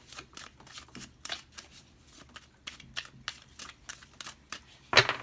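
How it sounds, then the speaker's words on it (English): Tarot cards being shuffled in several quick riffling bursts, close and crisp, with short pauses between, ending in a sharp snap. "I'm going to shuffle 3 more times"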